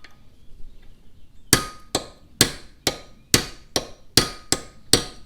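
Nine sharp, ringing hammer blows knock out an LS rocker trunnion, arriving in a steady rhythm about every half second after a quiet start, loud and close with metallic clang.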